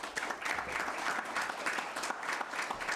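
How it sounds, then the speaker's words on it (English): A room at a city council meeting breaks into a steady round of applause, a dense patter of many hands clapping at moderate distance for the whole stretch, with no voices over it. "can we give them a round of applause?"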